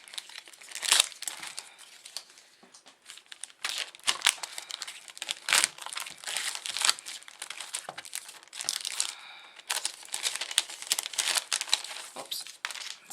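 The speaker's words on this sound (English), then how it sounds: "I'll see if I can get these open without making too much noise" Plastic packaging around thin cardstock photo frames crinkles and tears as it is opened, a busy run of close, soft rustling and crackling bursts with brief pauses, no talking.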